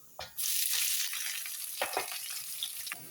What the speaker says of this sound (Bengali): তেলটা গরম হয়ে গেছে, পেঁয়াজটা দেবো।